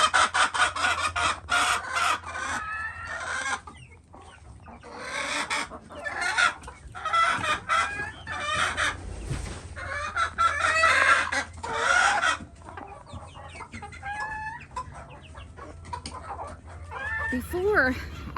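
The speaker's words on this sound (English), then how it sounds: "Some of my chickens." Chickens cluck loudly and continuously inside a coop, their squawks overlapping in busy bursts with a rooster crowing now and then, all close and lively.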